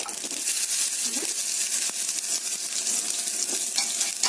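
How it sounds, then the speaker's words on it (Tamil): Fennel and poppy seeds fry in oil for a vegetable kurma, giving a steady close, crackling sizzle with small pops throughout and no talking. "எண்ணெய் விட்டு அதில் நம்ம எடுத்து வச்சுருக்க சோம்பு, இந்த கசகசா 2ஐயும் பொரிச்சிட்டு"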